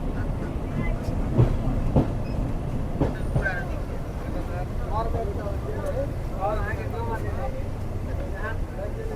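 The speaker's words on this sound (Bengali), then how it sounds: "আমাদের ট্রেন প্রবেশ করলো গোলাবাড়ি রেলওয়ে স্টেশনে" A local commuter train slowing into Golabari railway station gives a moderate rolling rumble with occasional clanks, while faint squealing tones rise and fall over it near the end.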